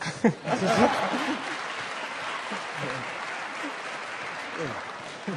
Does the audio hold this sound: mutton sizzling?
no